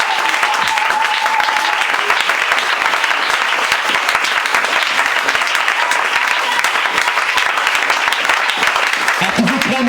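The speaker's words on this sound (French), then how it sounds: "Acclamez pour le Seigneur." A church congregation at an Easter service applauds loudly and continuously, a dense wash of clapping with scattered cheers that holds at full volume throughout.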